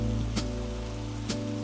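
Soft rain falls as a faint steady wash beneath mellow, sustained jazz tones, with two brief brighter splashes standing out over the calm music.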